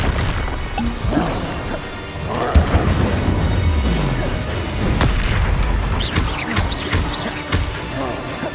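Confringo and Incendio spell blasts in Hogwarts Legacy, loud booming impacts and crackling fiery bursts in quick succession, with rumbling low thuds, whooshes and a brief spoken incantation.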